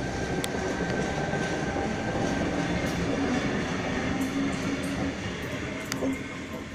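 A Sydney Trains Hornsby set passenger train rumbles steadily past at close range near Otford, a continuous roar of wheels on rails with faint metallic squeals near the end.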